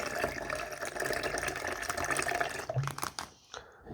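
Water is poured into a measuring jug for aquarium use, a continuous trickling fill nearby that breaks into a few splashes and drips as it stops.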